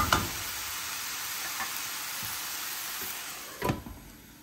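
Mint and spicy garlic chutney ingredients cook over medium flame in a pan, a soft steady sizzle with a few light clinks of a spoon stirring, fairly quiet and without talk.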